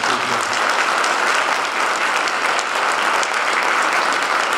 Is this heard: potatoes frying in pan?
no